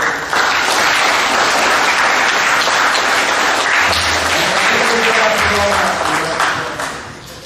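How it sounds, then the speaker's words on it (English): An audience claps loudly and continuously at a middle school awards assembly, a thick wash of applause with some murmured voices mixed in, easing off near the end. "Good round of applause and the boys."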